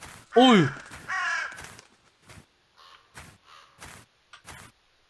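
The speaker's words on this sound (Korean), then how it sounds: "까마귀야" A crow cawing in a video game, a couple of harsh, loud caws at the start followed by fainter, scattered short sounds, with a person speaking over part of it.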